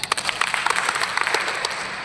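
A class in a teaching session claps together in a steady, dense patter of applause lasting a couple of seconds, fairly close and continuous.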